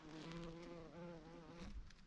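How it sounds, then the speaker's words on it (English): Bees hum in a steady, faint drone close by, a continuous buzzing with slight wavering pitch and no voices. "Whoa, look, there's loads of bees."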